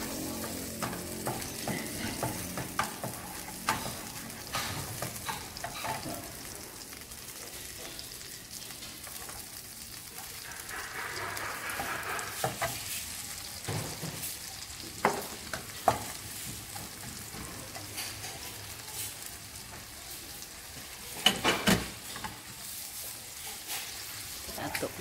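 Fu yung hai fries in butter in a pan, with a steady close sizzle, repeated scraping and stirring of a utensil, and a few louder clatters.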